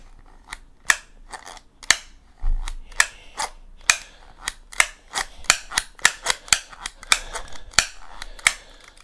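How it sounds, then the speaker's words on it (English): A pocket knife blade flicks open again and again, giving a close, dry run of sharp metallic clicks at an uneven pace for about nine seconds, with no talking. "I push, the blade flicks over."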